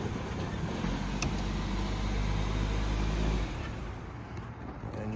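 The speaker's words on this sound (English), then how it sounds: "2015 Nissan Versa, and no jump needed on this one. Started right up" A 2015 Nissan Versa engine idles steadily at an airport auction, a close, continuous low rumble that drops away slightly near the end.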